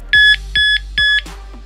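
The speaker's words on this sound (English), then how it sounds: "Now this thing's very loud. You could hear it beeping." Three loud, high electronic beeps in an even rhythm from a keyless Bluetooth bike lock's 110 dB alarm, each about a quarter second, followed by a couple of soft clicks.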